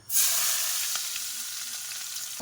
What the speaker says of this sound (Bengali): এই তেলেই মাংস রান্না করব তো প্রথমে দিয়ে দেবো পেঁয়াজ কুচি